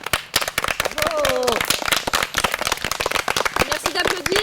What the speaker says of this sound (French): Merci d'applaudir ce matin